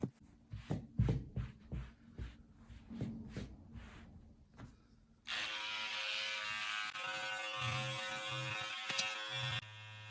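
An electric rug shaver trims and levels a rug, first with several short buzzing bursts and clicks, then a long continuous whirring drone that runs for several seconds and cuts off near the end.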